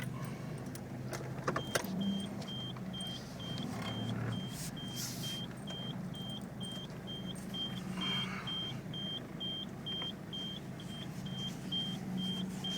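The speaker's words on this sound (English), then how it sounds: "As you can hear, you've got the reverse bleeper." An Isuzu Bighorn Irmscher reversing while parking sounds its reverse warning bleeper, a thin, high beep repeating at a steady, even pace over a low idling engine hum, with a few brief clicks and a short motor whir early on.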